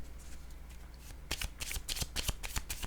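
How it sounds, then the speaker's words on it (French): An oracle card deck being shuffled in quick, papery riffling bursts after a quiet start, close and fairly loud, before a card is laid down. "Attendez, je vais déposer une carte rose."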